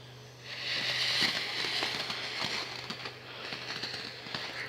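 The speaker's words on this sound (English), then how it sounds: "Fireworks. Blurry fireworks." New Year fireworks exploding, a continuous distant crackle with scattered pops and bangs, steady and fairly faint throughout.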